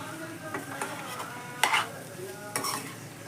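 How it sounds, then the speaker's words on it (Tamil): A jackfruit seed and egg dish is stirred in a pan, with a soft frying sizzle under scraping spoon strokes and a few sharper clinks against the pan, close and alone without talk. "நல்லா கிளறி எடுத்துக்கலாம்"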